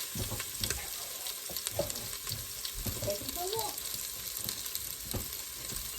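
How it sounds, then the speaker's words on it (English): Mushrooms, garlic and peppers sautéing in chicken drippings in an Instant Pot for chicken cacciatore, a steady low sizzle with stirring scrapes and clinks, fairly close. "We are going to saute our vegetables in that."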